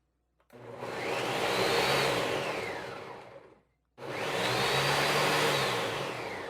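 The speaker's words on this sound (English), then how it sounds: "I'm going to put it in the blender now." A kitchen blender whirs loudly as it purées cassava with a little coconut milk, running in two long bursts of about three seconds each with a brief silent pause between them and no talking.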